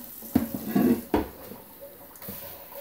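Cold water pours into a pot of potato leek soup in a home kitchen, arriving in a few splashy bursts with clinks of the pot, close and moderately loud, and no one talking.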